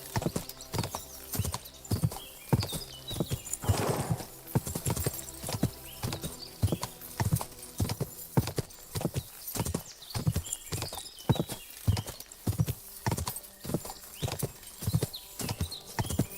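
In the video game Kingdom Come: Deliverance II, a horse's hooves clop in a steady, rhythmic gallop close by, with a whinny midway.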